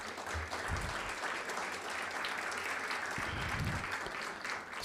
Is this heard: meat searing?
no